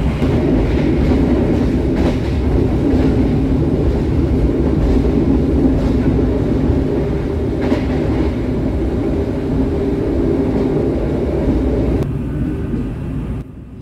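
Kaligung passenger train hauled by a vintage locomotive between Semarang and Jakarta, heard from inside: a steady rumbling roll with periodic clickety-clack of wheels on rail joints, easing off near the end.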